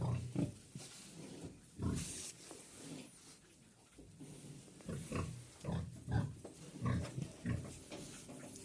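Sow resting in a dry cage on a farm, giving low grunts and snuffling oinks in irregular bursts, close and fairly quiet, with no talk over it.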